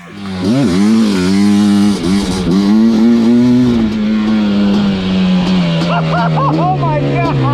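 A Suzuki Quadzilla LT500R ATV with retuned jetting revs hard nearby, its loud engine note climbing in pitch, holding high, then slowly sagging, with excited voices shouting over it.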